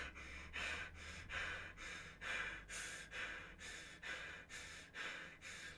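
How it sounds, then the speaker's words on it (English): A person breathes heavily after exertion, with about a dozen loud, rhythmic panting breaths in a steady in-and-out pattern, close and alone without speech. "Actually, I can breathe because I'm breathing really hard"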